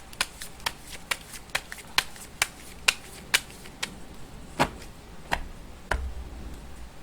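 Tarot cards being shuffled and snapped: a quick run of crisp card slaps at a fairly regular rhythm, close and distinct, slowing toward the end with a soft rustle, no voices.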